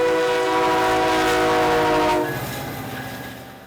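A train sounds its loud, sustained multi-tone horn as it passes the East Lansing Amtrak station, the chord cutting off after about two seconds while rolling rail noise fades away.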